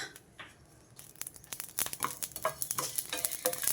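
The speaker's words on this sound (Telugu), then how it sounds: "ఇవి కొంచెం వేగాలండి ఇందులోనే కొంచెం షాయి జీరా వేసా" Whole spices with shahi jeera and cloves frying in a pan for a drumstick masala gravy, a quiet start giving way to steady crackling sizzle with scattered stirring scrapes, close and fairly soft.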